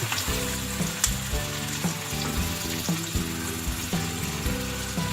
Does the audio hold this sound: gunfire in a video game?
no